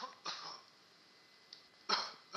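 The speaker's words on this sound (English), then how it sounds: "that's my controller coughing" A PS4 controller's built-in speaker plays short raspy coughs from the game Dreams: a couple of separate bursts followed by a louder double cough, thin and tinny, with quiet pauses in between.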